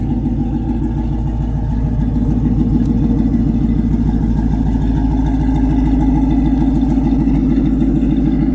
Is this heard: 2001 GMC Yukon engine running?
yes